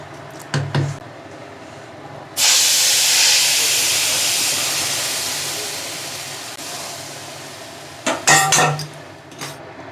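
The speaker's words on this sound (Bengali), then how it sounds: "এবার আমি ডাল সম্বার দিয়ে দিচ্ছি।" Hot cumin and fennel tempering is poured into moong dal cooked with bottle gourd and runner beans, letting out a sudden loud sizzling hiss that slowly fades over several seconds, framed by a few clinks of a metal pan and utensils.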